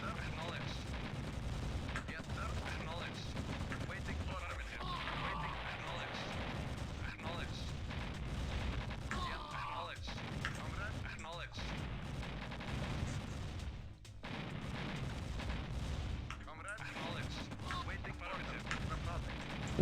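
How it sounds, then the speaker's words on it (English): Anti-aircraft gun and artillery fire in Command & Conquer Red Alert, with dense continuous gunfire and booming blasts layered with game noise throughout, and a voice talking over it. "It's a lot of AA guns."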